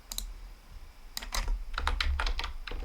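Quick taps typing a message on a tablet in Roblox Brookhaven, a short run of close, light clicks in uneven bursts, with no talking.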